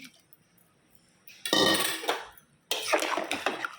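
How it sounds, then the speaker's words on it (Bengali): Rice tipped into a pot of tempered cumin, bay leaf and dried red chilli for khichuri, heard as two close, loud bursts of rattling grains and sizzling after a quiet lead-in. "চালটা দিয়ে দিলাম।"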